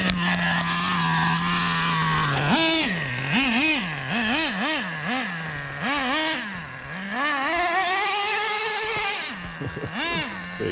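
A nitro RC car engine revs hard on wet ground after rain, its buzzing pitch rising and falling in quick repeated blips before a longer climbing rev, close and loud.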